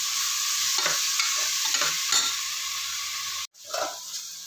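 Mixed vegetables for vegetable biryani are sautéed in a pan, with a steady loud sizzle and rhythmic scraping stir strokes, broken briefly by a short silence near the end.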